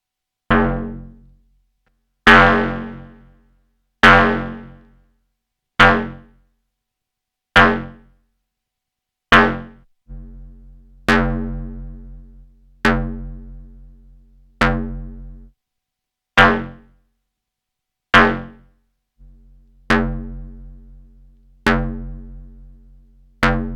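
Noise Engineering Sinc Bucina synth module pinged on an aggressive setting with the low-pass gate off: a steady series of about fourteen sharp, bright plucked tones, each decaying quickly, played alone at a regular pace.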